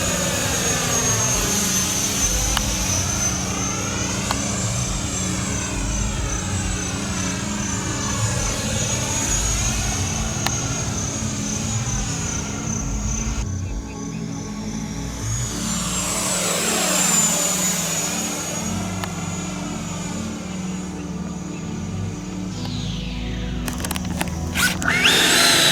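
A low-flying Thunderbird jet with its afterburner lit roars loudly and steadily throughout, the engine noise sweeping in pitch as it passes close overhead, with a brief surge near the end.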